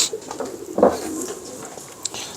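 Shah Sire pigeons coo in short, soft bursts near a handler, one fuller call rising in the middle against a quiet background.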